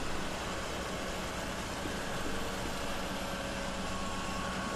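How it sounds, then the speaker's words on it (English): Tractor engine in Farming Simulator 2013 running steadily with a constant air compressor hiss layered over its drone, a dense, even wash of sound holding at one level throughout with no voices. "I don't like the air compressor sound that it makes"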